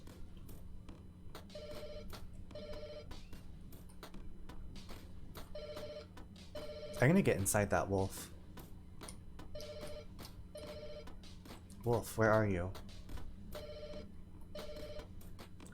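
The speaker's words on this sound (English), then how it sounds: "why is there a ringing phone?" A telephone rings in the video game Lake Haven - Chrysalis, with steady repeated double rings at moderate level throughout. Brief bursts of a man's speech cut in twice over the ringing.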